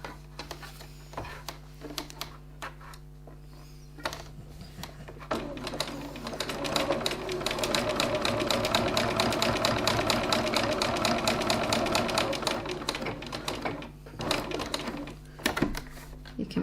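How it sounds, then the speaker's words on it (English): A sewing machine bastes a 3 mm seam on fabric card pockets, starting with slow stitches, then running fast and steady for several seconds before slowing to a few final stitches. "Now we're just going to baste the 2 sides together with a 3mm 1/8 of an inch seam"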